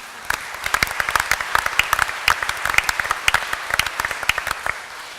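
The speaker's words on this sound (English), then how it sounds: "So please, a round of applause for Hitaf." Audience applause after a host introduces the next performer, steady dense clapping from a crowd that sustains throughout without pause.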